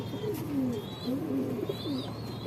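Pigeons coo in a house loft, soft repeated low burbling calls overlapping close by, with faint chirps above and a steady background hum; no talking.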